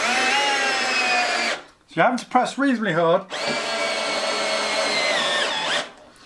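A light cordless drill driver whirs in two steady runs as it drives a hefty screw into a hollow wall, with someone speaking briefly in the pause between them.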